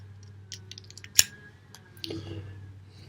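Scissors cutting a tiny loop of material, one crisp close snip amid small handling clicks and rustles, no talk.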